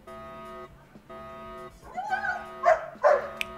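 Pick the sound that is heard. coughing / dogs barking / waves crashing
dogs barking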